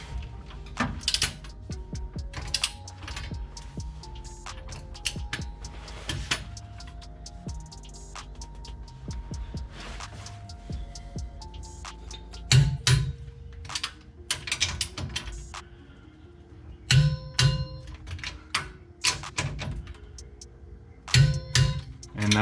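A torque wrench clicks and ratchets on the bolts of a rear differential girdle cover on a Ford Lightning build, with irregular sharp clicks, metallic taps and bursts of ratcheting across a long stretch.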